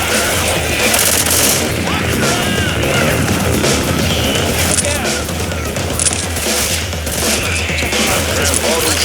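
Rapid, loud automatic shotgun gunfire in Left 4 Dead 2, with dense overlapping blasts and crashes continuing steadily throughout a chaotic fight, mixed with other game noise.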